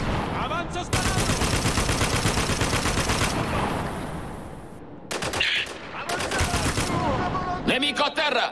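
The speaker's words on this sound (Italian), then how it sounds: "Avanzo sparando!" Rapid automatic machine-gun fire from the video game Spec Ops: The Line, played while advancing. Loud, dense bursts run for several seconds, break off in short pauses, then resume, with shouted voices partly mixed under the gunfire.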